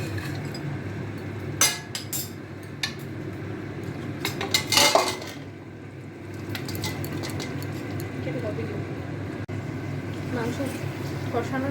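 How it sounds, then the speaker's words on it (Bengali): Boiled mutton being stirred and fried in oil in a wok, with a constant sizzle beneath repeated clinks and scrapes of a metal spatula against the pan. "এখন এই মাংসটা আমরা কড়াইতে কষতে দেব।"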